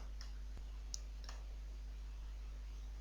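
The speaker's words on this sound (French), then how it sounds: "Je vais choisir Screen et je clique maintenant sur OK." A computer mouse clicks an OK button in a dialog while HTML and CSS are set up, giving a few small, sharp, close clicks over a faint steady hum, with no talking.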